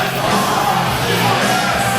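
A wrestling crowd cheers for the luchador Del Diablo at a live match, a dense, steady roar of many voices with scattered yells, loud and continuous throughout.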